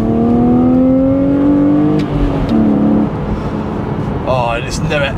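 A BMW Z4 3.0i pulls away in first gear in sport mode, its engine note rising steadily in pitch as it revs, then easing after a gear change, heard from inside the car while someone speaks over it.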